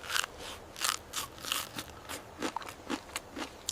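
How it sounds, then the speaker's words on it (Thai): Close, sharp crunches of teeth biting and chewing hard, dry bread come in a rapid irregular series of crisp cracks, loud and unaccompanied by talk. "เขาควักขนมปังแข็งจากช่องไอเทมมือใหม่ ขึ้นมากัดอย่างรวดเร็ว"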